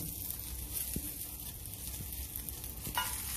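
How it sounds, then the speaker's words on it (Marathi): Eggplants go into a hot kadai and fry with a continuous sizzle, punctuated by a few soft knocks of a spoon or pieces landing. "हिच्यामध्ये आता मी वांगे सोडते।"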